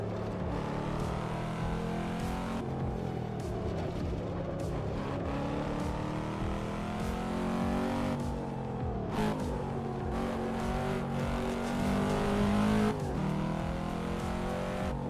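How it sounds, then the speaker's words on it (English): Cadillac CT5-V engine in a sim racing game, a steady continuous drone with shifting harmonic pitch as revs rise and fall, loud and unbroken throughout with no talk. "I'm driving the Cadillac CT5V."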